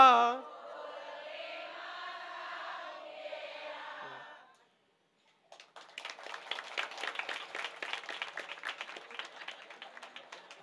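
Kirtan audience clapping, a dense burst of many hands in the second half, moderately loud and fairly close, after a stretch of sustained musical tone and a short silence.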